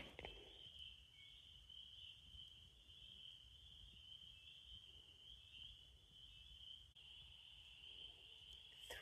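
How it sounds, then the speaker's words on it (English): Frogs calling from a swamp at dusk in early spring, a steady high-pitched trilling chorus that runs unbroken throughout, faint and fairly distant, with no talking. "The frogs are starting like it's dusk."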